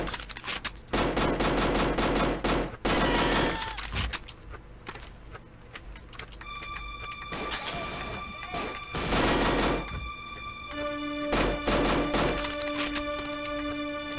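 Repeated pistol gunfire in the Vietnam War shooter game NAM, loud shots coming in dense bursts separated by short gaps, with steady tones from the game running underneath.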